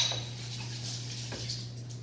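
Aquafaba being whipped in a bowl for meringues, with a steady, constant motor hum and faint clinking against the bowl throughout.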